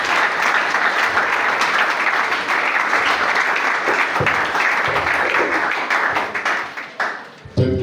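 A church congregation applauds at a Sunday service, loud, dense clapping from many hands that holds steady for several seconds and then trails off near the end.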